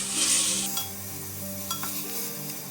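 Marinated chicken pieces dropped into a hot pan for chicken spaghetti, giving a loud burst of sizzling and frying hiss at first, then a steady crackle with stirring scrapes and small clinks. No one speaks.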